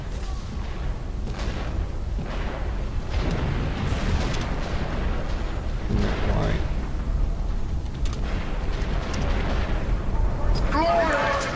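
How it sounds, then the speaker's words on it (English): In the Warhammer 40k Eternal Crusade video game, grenades go off in deep booming blasts amid gunfire and battle noise, with a player talking over the action. "use this guy's shield to check a couple of nades down there"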